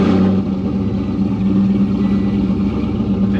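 A Pontiac GTO with a vacuum leak and a lit check engine light runs loud and close, a steady mid-pitched engine drone holding even throughout with slight swells, no voices over it.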